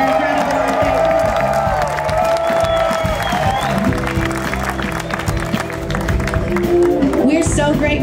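Audience applause and cheering for a band at a live blues show in Austin, Texas, a dense steady roar of clapping with whoops throughout, mixed with lingering music tones.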